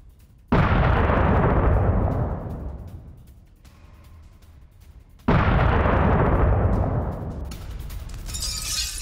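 Two heavy blasts strike during an attack on a Russian military convoy, each a sudden loud boom followed by a long rumbling decay, spaced about five seconds apart, with faint crackling debris afterward.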